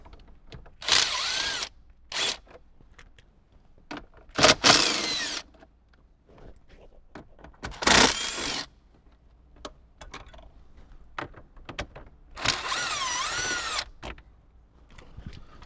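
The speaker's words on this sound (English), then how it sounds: "I like to just use a small impact gun to remove it." A small impact gun spins out the 10mm bolts holding the factory radio in a Toyota Tacoma dash, firing in four or five loud, short bursts of whirring and hammering, separated by quieter clicks and handling noise.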